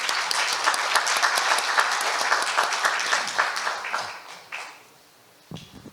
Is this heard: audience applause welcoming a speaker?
yes